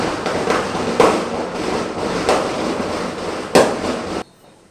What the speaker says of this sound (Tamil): பட்டாசு தீபாவளி டைமில் கொஞ்சம் அந்த பட்டாசு சவுண்டு கொஞ்சம் அப்படி இப்படின்னு கொஞ்சம் கேட்கும்